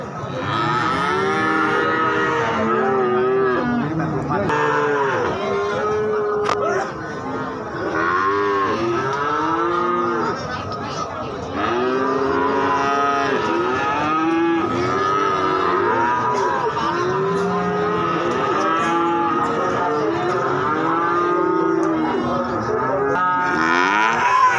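Cattle moo repeatedly and overlapping at the Gorang Gareng cattle market in Magetan, East Java, a dense chorus of many animals calling near and far over a constant crowded background hum.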